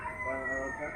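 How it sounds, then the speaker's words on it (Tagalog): Fighting cock crowing briefly, a short faint crow with clucking tones and some background noise. "Mga panabong, oh."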